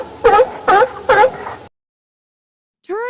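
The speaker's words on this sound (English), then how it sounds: "Seal." A seal gives three loud, close barks in a steady rhythm, then falls silent. A brief call from a different animal starts at the very end.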